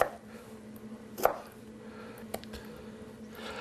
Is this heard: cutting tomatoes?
yes